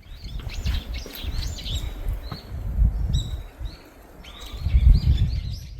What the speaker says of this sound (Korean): 특히 새소리가 너무 아름다웠습니다